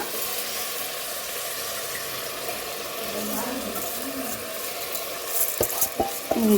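Paneer biryani masala mixed with curd, frying and being stirred in a pot, giving a continuous hissing sizzle with a few utensil clinks near the end.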